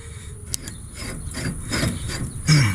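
A new outer tie rod end being threaded by hand onto the tie rod of a 2006-2010 Dodge Charger, giving a steady scraping, rasping metal rub in repeated strokes, close and moderately loud, with no talking.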